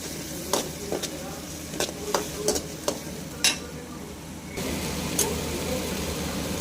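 Curry leaf chutney ingredients frying in a pan: a steady low sizzle with scattered sharp clinks and scrapes as the mixture is stirred, growing a little louder toward the end.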